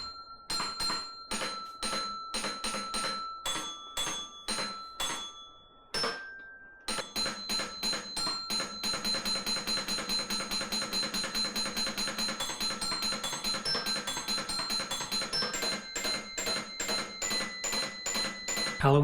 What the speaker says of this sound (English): This is what happens when you let an engineer use AI to try to play Jingle Bells.